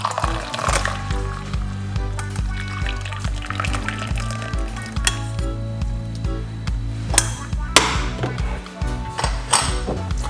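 Cooked tea liquid being poured off from a cooker, a continuous close splashing pour with light clinks of a pot, no speech.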